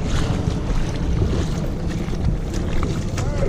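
Strong wind gusts outdoors while fishing for cutthroat trout, a steady broadband roar with buffeting against the microphone and a wash like water or surf, loud and continuous throughout, with no talking.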